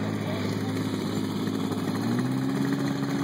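A 1951 Farmall Super C tractor idles at an Alabama plow day, its engine putting out a steady, even low rumble close by, with no change in pace.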